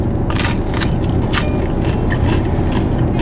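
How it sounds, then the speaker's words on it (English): Crunchy crust of a Los Angeles pizza being bitten and chewed close up, dry crackling crunches repeating over about three seconds above steady background noise. "You guys hear that crunch?"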